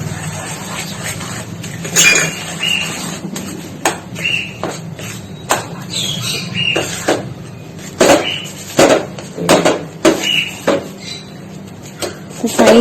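A spoon stirs a millet flour mixture with greens in a cooking pot, making scattered metallic clinks and scrapes in an irregular rhythm, close and moderately loud, with no talking.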